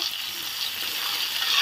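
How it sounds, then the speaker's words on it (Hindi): Okra goes into a hot pan with onions and starts frying, making a brief, even, hissing sizzle. "अब इसमें भिंडी डाल देंगे साथ ही।"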